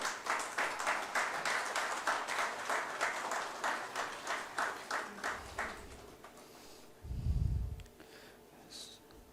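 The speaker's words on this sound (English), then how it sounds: "kindly give a good round of applause for that" An audience claps during a memento presentation at a conference's inaugural session, a steady run of rhythmic, evenly spaced claps from a fairly distant crowd, then fading to quiet with a brief low thump near the end.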